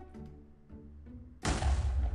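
A small creeper explosion in Minecraft hardcore, a sudden loud broadband burst that cuts in after quieter game sounds and holds as a rumbling blast to the end.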